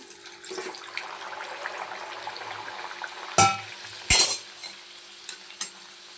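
Green pea kachori deep-frying in a pan of oil, making a steady soft sizzle and bubble, with two sharp metal clanks of a utensil against the pan partway through.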